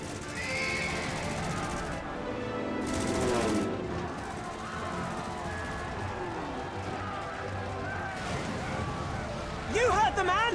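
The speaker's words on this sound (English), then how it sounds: "All cannons resume firing!" Continuous dense battle noise in the video game Final Fantasy XIV: Stormblood, with booming cannon blasts and rapid gunfire, shouting voices over it, and a brief high whine near the end.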